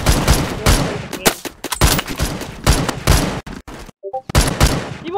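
Gunfire from a video game fires in loud, close bursts and rapid volleys, a near-continuous barrage broken by a brief lull with faint tones before shooting resumes.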